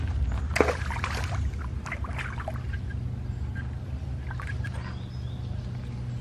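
Metal fishing magnet tossed back into woodland water and swished around to clean it, with a splash, then gentle sloshing and trickling against steady outdoor ambience and faint birdsong.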